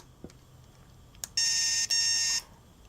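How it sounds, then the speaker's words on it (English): An anti-bark dog collar beeps in two steady high-pitched bursts with a brief break between them, preceded by a couple of faint clicks. "it's a beeping noise that will alarm your dog."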